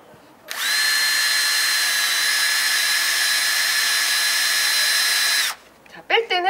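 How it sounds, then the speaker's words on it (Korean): A cordless electric drill runs steadily at high speed for about five seconds while it bores a roughly 5 mm hole into a tree trunk, then stops abruptly, and a few faint rustles follow. "그래서 오른쪽 버튼을 눌러서 선생님이 구멍을 뚫어보도록 하겠습니다."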